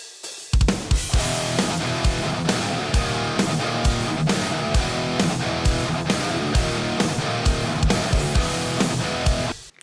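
Blended distorted electric guitars chug through a riff alongside a driving drum kit, with punchy kick and snare hits pulsing steadily under the dense, loud guitar wall.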